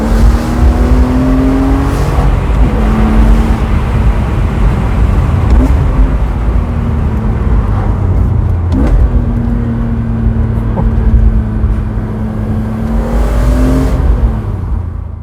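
BMW E46 M3 engine heard from inside while driving and dropping gears, a loud continuous engine drone with pitch shifts as revs rise and fall through gear changes, with no talking.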